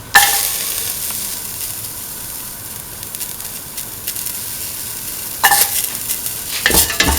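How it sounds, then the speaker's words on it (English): Garlic frying for a lentil carrot stew, a steady close sizzle with stirring scrapes in the pan and louder bursts of crackling near the end. "Put in the garlic."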